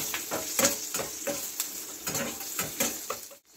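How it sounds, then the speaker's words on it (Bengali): Curry leaves spit and crackle in hot oil for a dhokla tempering, with sharp bursts of sizzling and stirring repeating over a steady frying hiss, close up, no talk. "এবার আমি কারি পাতা দিয়ে দিচ্ছি, বেশ একটু বেশি করে কারি পাতা দিলাম।"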